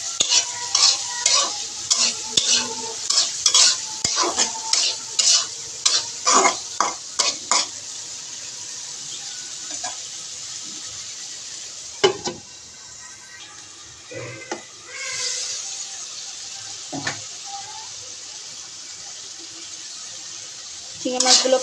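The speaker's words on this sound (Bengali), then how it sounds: "চিংড়ি মাছগুলো ভালোভাবে নেড়ে কষিয়ে নেব।" Shrimp stirred and fried in oil in a pan, with a spoon repeatedly scraping and knocking against the metal in a steady rhythm over a constant sizzle. Later come a few slower stirs and clanks, all up close.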